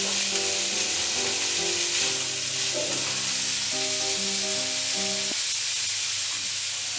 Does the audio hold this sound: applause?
no